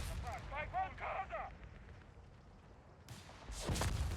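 A recon artillery barrage in Company of Heroes 3 lands as dull, rumbling booms with a sharper blast near the end. A voice talks briefly over the opening.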